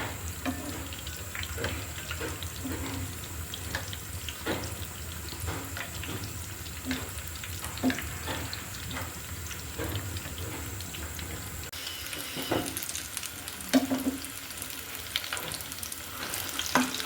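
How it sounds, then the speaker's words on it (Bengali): Green chilies dipped in gram-flour batter frying in hot oil, a continuous low crackling sizzle with occasional utensil taps and stirring, close and fairly quiet, the sizzle growing busier near the end. "মরিচিটাও কিন্তু আমি ব্যাটারে ভিজিয়ে এবার ভেজে নিব।"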